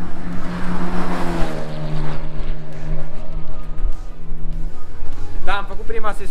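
A VW Golf driving on a race circuit, its engine droning steadily with rising and falling revs close by, while a person talks over it near the end.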